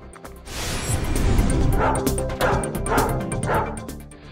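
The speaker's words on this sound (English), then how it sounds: "This dog, Monsieur Dumpling." A dog yaps and barks repeatedly in a staged palace comedy skit, sharp close barks landing in a quick, uneven rhythm over a busy, noisy background.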